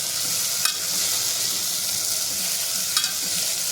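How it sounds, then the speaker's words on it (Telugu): Onion paste sizzles in oil inside a pressure cooker while being stirred for a light roast, a constant close frying hiss broken by two brief scrapes of the spoon. "అంతా వేసిన తర్వాత మనము ఆయిల్లో ఇలాగా కలబెట్టుకోవాలి"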